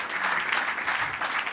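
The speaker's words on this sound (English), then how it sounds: "So let's give them a big round of applause." Audience applause at a business academy talk in Boston, a brief, even burst of many hands clapping.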